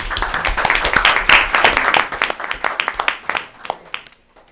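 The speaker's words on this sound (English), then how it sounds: "Hopefully it was applause" Applause at a town selectmen meeting, a dense burst of hand clapping that is loud at first and then thins into scattered individual claps before fading out.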